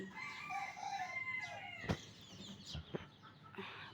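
Desi hens and a rooster pecking at fallen drumstick leaves, soft clucks and a crow-like call with a sudden sharp wing flap or thump, fairly faint and outdoors.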